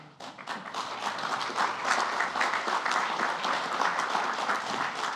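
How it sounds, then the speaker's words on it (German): An audience applauds at a mosque foundation-stone ceremony in Erfurt, a dense, sustained wash of clapping from a crowd that swells quickly and holds steady with no voices over it. "Applaus."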